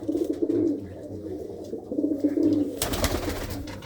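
Pigeons at a loft coo in repeated low, throaty rolls, with a burst of louder rustling or wing flapping near the end.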